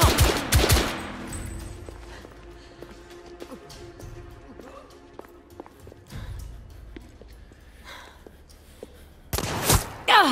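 Gunfire in the video game The Order: 1886, a close, loud burst of shots at the start, then scattered shots and clatter through the middle, ending in another loud burst, with voices at times.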